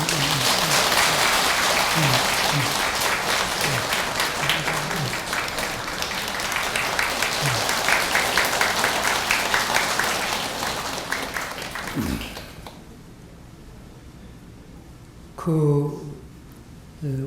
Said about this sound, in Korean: 우리 고향 분들에게도 박수 한번